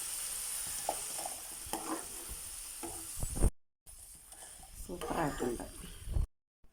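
Hot oil sizzles and crackles as French fries are scooped out into a large sieve to drain, under a person speaking, with two brief silent gaps.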